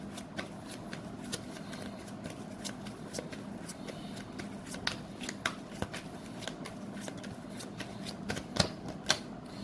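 Tarot cards being shuffled and drawn, a faint steady riffling with a string of sharp irregular card snaps and flicks, close and quiet.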